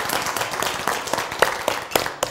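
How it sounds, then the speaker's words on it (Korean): An audience at a Korean church lecture gathering claps in thanks for Dr. Lee Sang-gu: a steady patter of hands with a few sharper individual claps standing out, moderately loud and fairly close. "우리 고마우신 이상구 박사님 감사의 박수 부탁드립니다"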